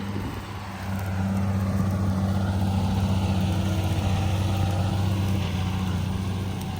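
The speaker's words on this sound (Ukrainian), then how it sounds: "Робота плуга Унлу." An Unlu plough works a field behind a tractor, a steady loud engine drone that rises after the first second and holds evenly, with no voices.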